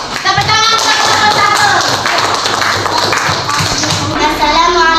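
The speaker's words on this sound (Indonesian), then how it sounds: "Tepuk tangan untuk kelompok" Classroom applause for a student group in a teaching practice session, dense steady clapping from many hands filling the whole stretch, with children's voices mixed in.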